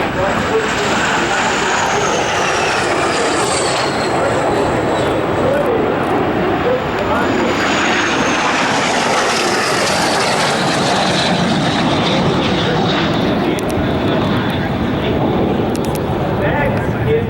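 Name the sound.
Aero L-39 jet aircraft flying, airshow jet demo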